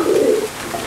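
A single male pigeon coos close by in a home loft, one throaty low call swelling and fading within a second, heard alone.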